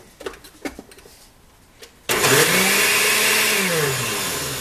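A blender blending sweet potato carrot soup with half and half cream starts abruptly after a few soft clinks, then runs loud and steady at close range, its motor pitch easing slightly as it blends.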